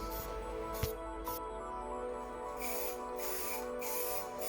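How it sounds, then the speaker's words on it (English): An aerosol can of Plasti Dip coating hisses in several bursts while spraying Mitsubishi Express van bodywork, short sprays separated by brief pauses, close by and fairly steady, with no talking. "I used some spray on Plasti Dip to give it a fresh coat"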